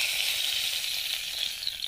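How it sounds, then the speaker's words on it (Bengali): Vegetables fry in hot oil in a wok with a continuous bright sizzle, close up and steady, with no talking. "কড়াইতে তেল দিয়ে সবজিগুলো ভেজে নেব।"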